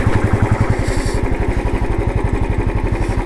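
A motorcycle engine idles close by with a loud, steady, rapid pulsing throb and no break, at a lakeside stop in Sikkim.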